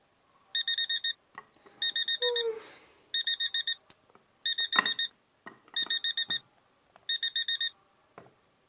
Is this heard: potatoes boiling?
no